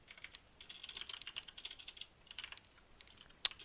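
Fingers type on a computer keyboard in quick, irregular bursts of light clicking taps, ending with one sharper keystroke, close and alone with no talk.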